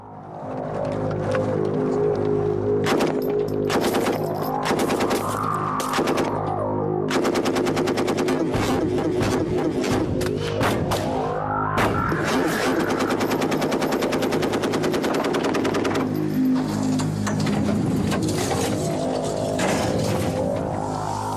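An M60 machine gun fires long, rapid bursts into a truck engine, with sharp repeated reports ringing out in clusters and brief pauses between volleys, loud and echoing over a low background rumble.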